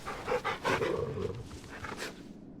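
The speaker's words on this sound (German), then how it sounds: "Erstmal den Hundi streicheln." A dog being petted in the video game Final Fantasy XVI gives short snuffling, panting sounds over a few seconds, close and moderately loud, then fading out.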